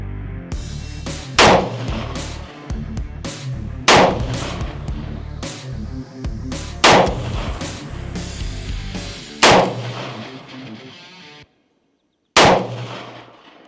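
Cox Arms EMR-1 rifle firing 55 grain Hornady VMAX rounds: seven loud single shots spaced one to three seconds apart, each with a sharp crack and ringing tail, near and without talk.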